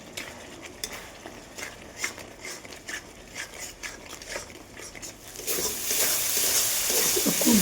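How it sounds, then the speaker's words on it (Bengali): Rohu fish curry masala with salt and turmeric is stirred and fried in a pan: scraping strokes of a spoon, then a loud, steady sizzle building near the end. No one speaks. "আর একটু কষিয়ে নেব।"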